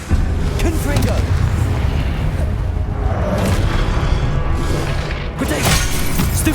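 A Confringo fire spell blast in Hogwarts Legacy: loud, rumbling booms and crashing impacts over a dense, continuous game soundscape, with a sharp burst near the end and low-end rumble throughout.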